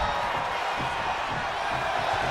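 Dense, steady roar of an arena crowd at a wrestling match in the video game WWE 2K25, a broad continuous wash of noise with no distinct peaks.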